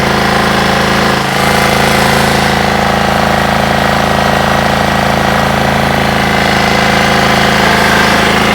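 A mini corn harvester that runs without a tractor has its engine running steadily and loudly throughout, a constant droning hum with a hard, rattling vibration and no pauses.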